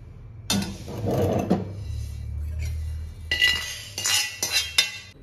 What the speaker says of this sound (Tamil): அப்படியே தட்டில் கொட்டி ஆற வச்சுக்கலாம்.